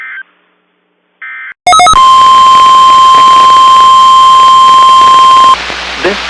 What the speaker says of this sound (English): the weekly test of the NOAA radio warning alarm and emergency alert system